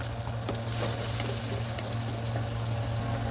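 Garlic and onion frying in hot oil in a pan, a steady, dense sizzle that holds loud and close throughout, with a low electrical hum running underneath.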